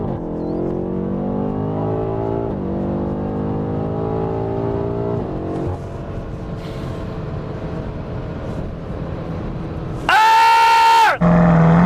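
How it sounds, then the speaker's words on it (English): A BMW M8 Competition sits on launch control, its engine held at a steady high-rev drone for several seconds before the launch. A sharp, loud burst of acceleration comes near the end, close to the microphone. "Gas all the way in, launch control active."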